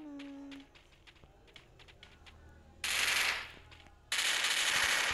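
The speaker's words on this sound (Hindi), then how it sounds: "भाई कहाँ गोली चला दी मैंने भी," Two loud bursts of rapid automatic gunfire, each lasting about a second, over a low background of clicks and faint game ambience.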